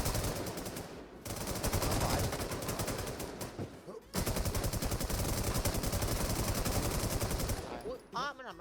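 Rapid automatic gunfire from the Last Z infestation video game, dense sustained bursts with a short break, loud and close, with someone shouting briefly near the end.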